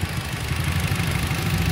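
A Wuling Confero's engine idles smoothly, a steady low rumble with an even, unbroken pulse, close by and alone without any talk.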